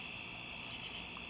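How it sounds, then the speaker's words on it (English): Tree crickets chirp outdoors in a steady, continuous high trill, fairly close and even throughout, with no talking. "Hearing a tree cricket right now."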